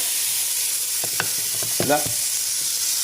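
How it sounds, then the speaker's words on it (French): Peppers, onions and courgettes sauté in a pan for ratatouille niçoise, a steady loud sizzle with a couple of brief stirring scrapes partway through. "Là, vous avez les poivrons, les oignons, les courgettes. Donc on les fait bien revenir."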